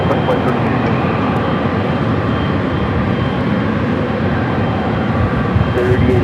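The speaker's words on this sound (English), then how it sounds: "That was United Flight 38, the Dreamliner coming from Tokyo, Haneda." A United Boeing Dreamliner jet, flight 38 from Tokyo Haneda, rumbling loudly and continuously at LAX, a constant broadband engine roar that fills the clip.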